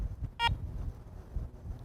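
A single short electronic beep from a Garrett ACE 400 metal detector as it powers on, clear and close over a low background rumble.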